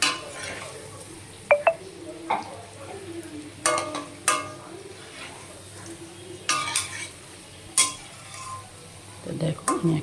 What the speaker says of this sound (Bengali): ভালো করে উল্টে পাল্টে দিতে হবে, নয়তো একদিকটা বেশি ভাজা হয়ে যাবে আর একদিকটা কাঁচা রয়ে যাবে